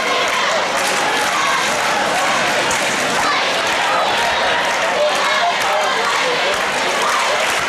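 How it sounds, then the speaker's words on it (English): Student cheer sections roar and chant at a high school boys basketball game between TVHS and Triton, a dense, loud, steady crowd wall with clapping and shouting mixed throughout. "The cheer blocks are having a battle too."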